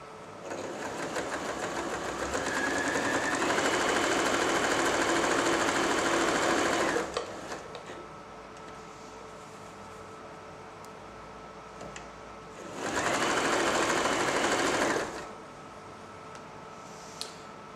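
A Janome J3-24 sewing machine stitches in two loud, steady, fast-whirring runs close by, the first about seven seconds long and the second shorter, separated by a quiet pause with no talk.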